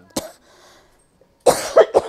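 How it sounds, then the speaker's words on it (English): A person coughs after handling spicy red pepper while cooking: one sharp cough, a brief pause, then a quick run of three harsh coughs, close and loud. "This is the red pepper that just made me cough."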